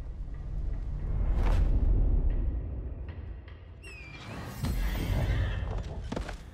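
Horse neighs and whinnies in an Elden Ring fantasy game trailer, with whinny calls rising near the four-second mark over a loud rumbling orchestral and effects bed, plus brief clip-clop-like hits.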